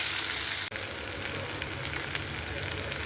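Onions and tomato sauté in a pan with a steady close sizzle and soft crackling, cut by one abrupt break early on before the frying hiss carries on evenly.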